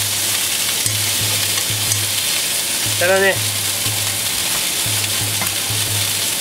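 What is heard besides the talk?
food frying in a pan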